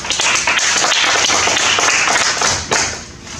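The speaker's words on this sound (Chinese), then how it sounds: "如果没意见，大家鼓掌通过" Attendees at a volunteer police association board meeting in a conference room applaud together, a dense, sustained burst of clapping that stays loud throughout and tapers slightly at the end.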